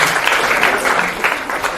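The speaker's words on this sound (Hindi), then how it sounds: "मैं चाहता हूँ एक जोरदार ताली के साथ" Audience at a JEE Advanced toppers felicitation ceremony in Varanasi claps loudly and continuously, a dense crowd applause filling the whole stretch.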